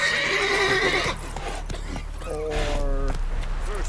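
A horse in The Witcher 3: Wild Hunt gives a loud, close neigh and a shorter whinny near the end, while hooves clop under the calls, with no talking.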